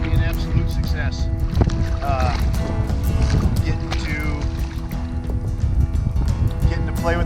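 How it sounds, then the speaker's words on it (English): Steady rush of water and wind around a small boat, with splashing and someone talking over the noise throughout. "Oh my, I got water splashing on there."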